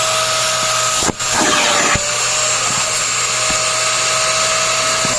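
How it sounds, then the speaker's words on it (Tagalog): A heavy-duty wet and dry vacuum whines steadily and loudly while cleaning the interior of a Toyota Avanza, with a brief dip and a sharp clack as the nozzle is pressed and moved. "Yung gagamitin na vacuum dito, yung pwede sa wet and dry."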